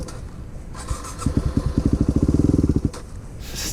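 Dirt bike engine sputtering in a rapid chain of low pops that falter and cut out, the stall ending the run after a few seconds; close and fairly loud with no talk.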